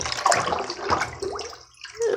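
Water is poured out of an LOL Surprise toy, a short close splashing gush that tapers off, with a brief further trickle at the end.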